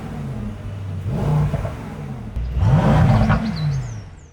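Close and loud, a Mercedes-AMG E63 V8 gives two throttle blips from idle, each a deep rising roar that falls back to a rumbling burble, with a pop of crackle near the end.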